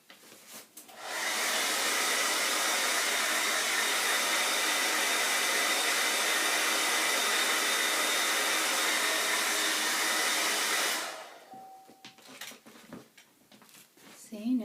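A hair dryer blows steadily over an alcohol ink painting of trees and foliage, a loud, continuous whooshing roar lasting about ten seconds before cutting off, leaving faint handling noises.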